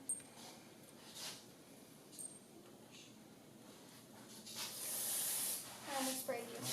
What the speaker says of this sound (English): Spray a little car cleaner on your gloves there and